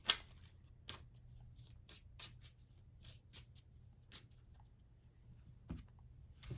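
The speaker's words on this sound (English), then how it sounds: "Give this another shuffle." Repeated crisp riffles and flicks of Star Trek: Chrono-Trek playing cards being shuffled up close, in irregular bursts over a low steady hum, with no talking.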